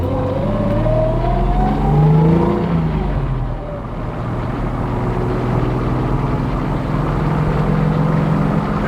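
A 1955 Mercedes-Benz 300SL Gullwing driving on the street, its engine loud and close as it revs and climbs through gears with rising and falling pitch, then settles into a steady drone, with no talk.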